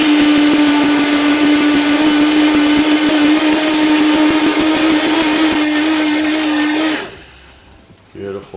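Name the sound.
Vitamix A3500 blender grinding grain into flour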